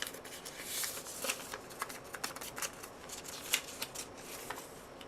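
A sheet of Monokaki paper, slightly thicker than thin fountain pen paper, rustles and crinkles close by in quick, soft, irregular handling sounds with no talk.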